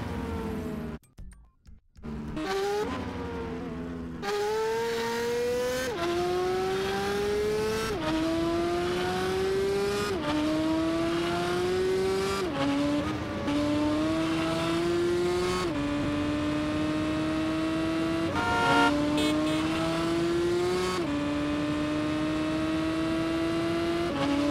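An armored truck engine in Grand Theft Auto: San Andreas drones steadily and close, its pitch climbing in repeated gear-shift steps as it accelerates, with no talking.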